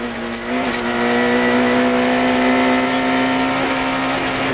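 Rally cars race on a stage of the 1995 Monte Carlo Rally, a close, loud engine drone holding a steady pitch that climbs slightly as the cars run side by side along a straight.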